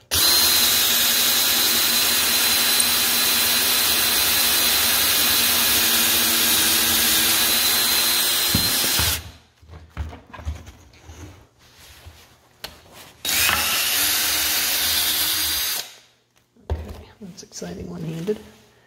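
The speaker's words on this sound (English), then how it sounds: "So you can normally drill two holes in, but I'm just spacing them out" A power drill bores holes into a wooden upper cabinet, running loud and steady for about nine seconds, then a second shorter burst after a pause, with quieter handling noise between.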